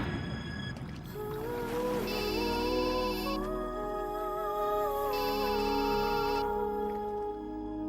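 A mobile phone rings with a melodic ringtone that repeats in two bursts, clear and fairly close, with no talking.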